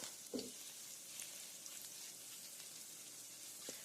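Garlic and a pinch of salt frying on a hot plate give a steady broadband sizzle, with a couple of brief clatters of stirring near the start and end and no voices.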